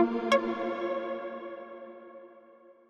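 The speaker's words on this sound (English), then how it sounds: "Let's do Dream Hall because it sounds dreamy." A synth lead note with a huge hall reverb blooms with a sharp attack, then its bright harmonic tail rings and slowly fades over nearly three seconds.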